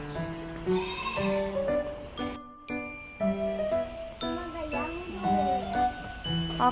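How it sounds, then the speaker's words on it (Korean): Goats at a baby animal farm in Daegwallyeong, Gangneung, South Korea, bleat in short repeated cries close by, mixed with light jingling of bells and bits of nearby talking. "염소 귀여워"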